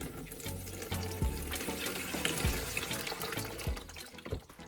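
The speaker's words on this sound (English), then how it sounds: "Gently shake the battery to allow the water to circulate through the chambers." Water sloshing inside an old car battery being gently shaken, with repeated splashing surges in an irregular rhythm, close and fairly loud.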